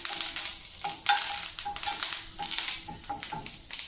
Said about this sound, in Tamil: இப்போ ஒரு ஸ்பூன் எண்ணெய் ஊற்றி கருவேப்பிலையை பொரிச்சிக்கலாம்.